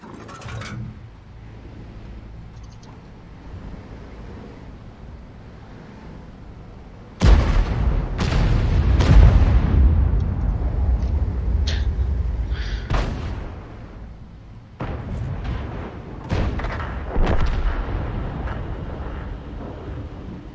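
Gunfire in the video game Red Dead Redemption 2: after a quiet, low rumbling stretch, a run of loud, sharp shots arrives in uneven bursts, each leaving a booming, reverberant tail.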